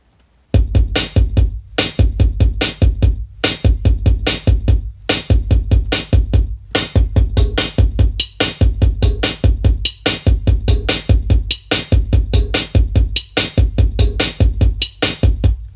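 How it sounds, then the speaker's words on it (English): Contact Instrument Concrete Diverge drum kit playing a steady, loud electronic beat with punchy kicks and crisp repeated hits, driving continuously without pause. "The original drum beat is Contact Instrument Concrete."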